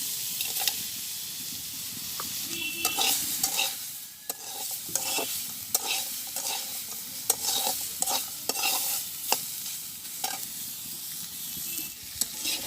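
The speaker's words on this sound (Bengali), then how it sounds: "তো আমি এবারে পুঁটি মাছটা দিয়ে দেবো।" Small puti fish fry in a pan in a village kitchen with a continuous hissing sizzle, broken by frequent sharp spatters and pops and scraping stirs across the whole stretch, with no talk.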